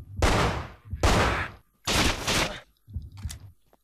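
Assault rifle fire in the video game Manhunt: four short, loud bursts of automatic shots in quick succession, separated by brief pauses, the last burst weaker and trailing into quiet.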